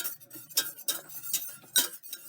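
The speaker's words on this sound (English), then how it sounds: "Give that a nice whisk." Repeated metal clinks of a whisk against a pot as creme brulee pie filling is beaten, a quick irregular rhythm of close, moderately loud taps with no talking.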